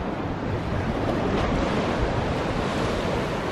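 Steady wash of sea waves with a light breeze blowing across the microphone, an even broadband rush with no voices.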